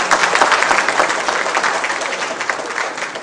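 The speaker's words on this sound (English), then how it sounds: "Please give him a round of applause." A dense audience applauds the chief guest, Naveen Patnaik, at a formal function in India, a loud, sustained wall of clapping that gradually eases.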